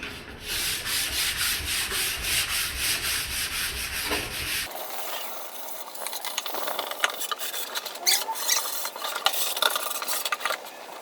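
Steady back-and-forth scraping of sandpaper on wood along the grain, close and continuous, the strokes rhythmic at first and then rougher and more irregular.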